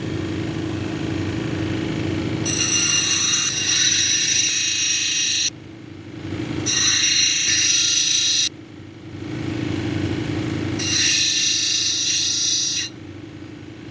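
Lapidary grinding wheels shape a leopard skin jasper cabochon, a steady motor whir with three bursts of bright high-pitched grinding as the stone presses against the wheel, close and moderately loud.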